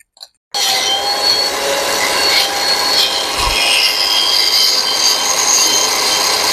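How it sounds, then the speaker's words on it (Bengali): A kitchen mixer grinder blends raw mango for juice, starting abruptly after a brief silence and then whirring loudly and steadily at close range. "এবার চলো মিক্সির মধ্যে এটা আমি ভালো করে বেটে নেবো"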